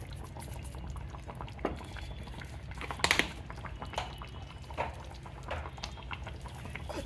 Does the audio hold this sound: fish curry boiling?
yes